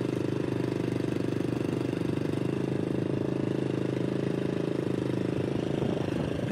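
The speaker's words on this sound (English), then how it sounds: "And it's just running with the engine at idle." A scale model M4A3E2 Sherman Jumbo tank idles with a steady, even engine putter throughout, close and continuous without any change in pace.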